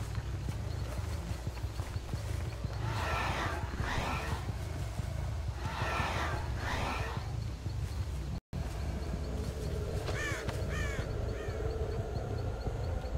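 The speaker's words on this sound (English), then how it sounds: "That was a bird. I thought that was somebody." Crows in the horror game Dead by Daylight cawing in a few grouped bursts over a steady rumbling, clip-clopping background, with a final short cluster of caws near the end.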